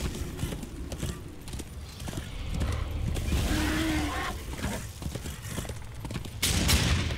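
Horse hooves clip-clop in a quick galloping rhythm in Darksiders II, with a clear whinny partway through and bursts of game effects around it, loud and close.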